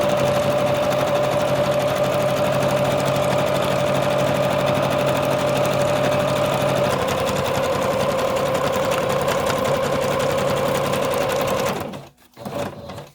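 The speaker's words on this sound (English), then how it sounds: "So just a little bit more sewing" A sewing machine runs a continuous stitch through fabric for about twelve seconds, steady and close, with a slight shift in pitch partway through before stopping abruptly near the end.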